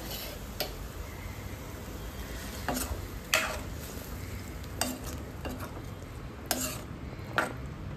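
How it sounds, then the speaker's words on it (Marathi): Dried bombil fish and potatoes being sautéed in a pan, a soft steady sizzle broken by a few sharp scrapes and clinks of a stirring spoon against the pan. "आणि मी सुकं करणार आहे एकदम, तर ते परतून घेऊया."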